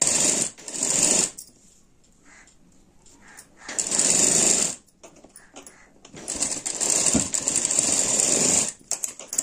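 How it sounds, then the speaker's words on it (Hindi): Sewing machine running a side-fitting seam on a blouse, in three loud bursts of rapid stitching separated by quiet pauses, close up with no talking. "जहां भी हमने निशान लगाया है उसी निशान की जगह आपको सिलाई को चलाना है"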